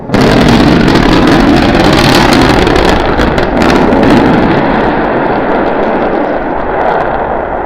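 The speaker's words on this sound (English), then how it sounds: "restart 2 engines, flip the vehicle vertical, then transition to 1 engine for the landing burn" Loud, continuous roaring thrust from SpaceX Starship SN9's engines during its landing burn after a 12.5 km altitude test, with a broad crackling rumble, holding steady before easing slightly toward the end.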